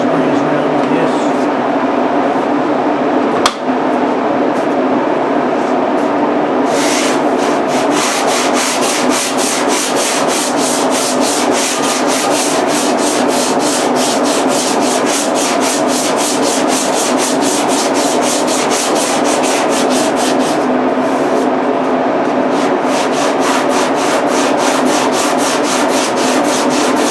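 Loud, steady rasp of power sanding on a part from a 1955 Farmall Cub tractor during restoration, with a vent extractor pulling the dust, a continuous close drone with a pulsing grind.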